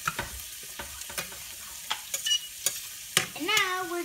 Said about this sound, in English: I'm frying the shrimp so the taste can be really good